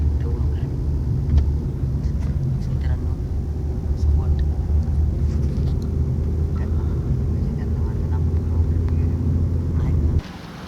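Riding inside a car on a lift: a steady low road and engine rumble fills the cabin throughout, with faint voices underneath, before the rumble drops off at the very end.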